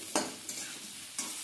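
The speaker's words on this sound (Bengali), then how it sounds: "সবজিগুলো ভেজে নিয়ে তারপর পেঁয়াজটা দিচ্ছি, দিয়ে আবার একটু ভালো করে ভেজে নেব।" Vegetables and onions fried in plenty of oil for a small-shrimp and cabbage dish, with a soft close sizzle broken by three quick scraping stirs.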